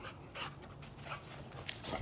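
A dog pants rapidly and steadily close by, a run of quick breathy puffs in an even rhythm with no voices over it.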